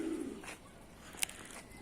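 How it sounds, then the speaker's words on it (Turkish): Pigeons on an Adana rooftop, out for feeding, give a brief low coo at the start, then quieter ambient noise broken by a sharp click near the middle. "Kuşları yemliyoruz."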